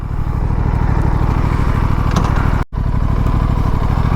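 An Aprilia 457 motorcycle engine runs steadily at idle, a loud, close, even pulsing thrum that cuts out for a split second near the end before resuming.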